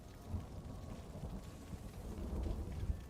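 Steady rain and rolling thunder from a storm in Stories: The Path of Destinies, a dense patter of drops over low rumbling that swells toward the end, with no one talking.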